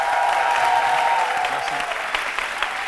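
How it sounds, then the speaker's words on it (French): An audience applauds loudly and steadily at a live televised arts event, a dense wash of many hands clapping throughout with a faint crowd murmur. "Jean-Michel, Onin, je vous demande de l'applaudir très fort."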